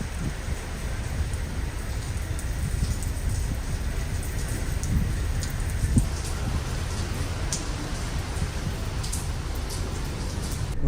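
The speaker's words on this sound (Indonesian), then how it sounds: "Hujan, gemuruh, halilintar, dan angin kencang banget" Steady heavy rain pours down across the whole stretch at sea, a dense hiss with low rumbling underneath that suggests distant thunder, amid strong wind; no one speaks.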